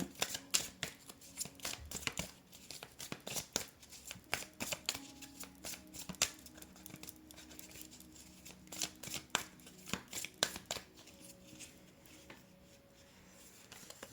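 Oracle cards shuffled by hand for a card reading, a rapid run of crisp, close riffling flicks and taps, quiet and steady with brief pauses.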